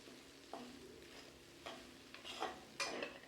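Leftover idli upma stirred in a nonstick pan, a spatula scraping and scooping in several short strokes over a soft background sizzle, close and moderately quiet, with no talking.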